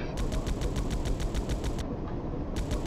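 Turret machine gun firing in the video game X-POINT: rapid, evenly spaced automatic shots in a steady loud stream, a short pause near the end, then firing resumes.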